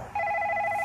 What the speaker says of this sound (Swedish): Ska ringa Peter.